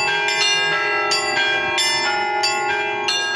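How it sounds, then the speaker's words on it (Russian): Church bells ring out at a bell-ringing concert of a national bell festival in Yelabuga, Russia, with repeated clanging strikes layered over a sustained ringing hum, loud and close, with no speech. "прошел звон-концерт с участием звонарей и фольклорных коллективов 10-го Всероссийского фестиваля колокольного звона"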